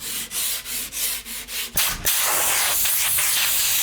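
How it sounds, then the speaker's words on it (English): Light hand-sanding of polyurethane-coated plywood with 180 grit sandpaper, about six steady back-and-forth rasping strokes, close and distinct, then giving way to a louder continuous hiss. "So I'm taking some 180 grit sandpaper and just lightly removing all of that raised grain, smoothing it out"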